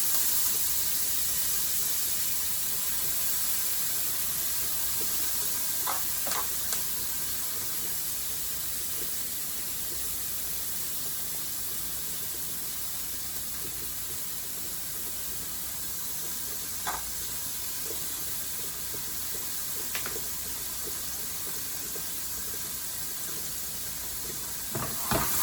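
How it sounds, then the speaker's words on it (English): Garlic in a hot pan deglazed with lemon, a constant broad sizzling hiss for shrimp and grits, with a few faint utensil taps scattered through and no talking. "we are going to deglaze this pan with the lemon that we have"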